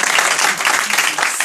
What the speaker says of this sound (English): There's where you clap again right there.